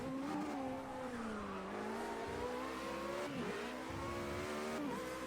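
Race cars in the driving game Project Cars 2 roar past one another, a steady layered engine drone with rising and falling pitch as they accelerate and shift, with occasional tire squeal, loud and continuous with no talk.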